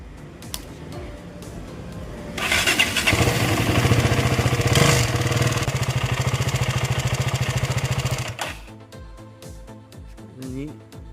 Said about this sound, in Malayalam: എഞ്ചിൻ്റെ സൗണ്ട്